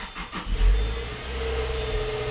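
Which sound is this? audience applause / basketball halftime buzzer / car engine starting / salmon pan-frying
car engine starting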